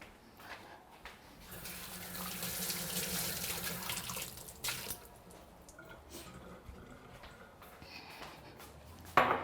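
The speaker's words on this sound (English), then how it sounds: "let me wash the tomatoes" Tomatoes washed under a running kitchen tap, a steady splashing stream of water hitting the fruit and sink, close and moderately loud, with a brief clatter near the end and no talk.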